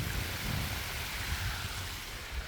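A small waterfall pours steadily on a slick, steep trail climbed by a Polaris RS1, a constant broadband rush with a low rumble underneath, fairly quiet and unbroken.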